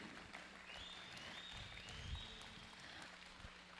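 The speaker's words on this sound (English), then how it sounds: "if we can give another big Texas applause for them and all of their hard work today" Crowd at a FIRST Tech Challenge robotics competition in Texas applauding the judges, a faint, distant patter of clapping spread across a large hall, with a thin electronic whine drifting above it.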